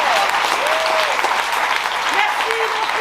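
A theatre audience applauds after a performance by an improv theatre company, with dense, loud, sustained clapping and a few cheers or whistles on top.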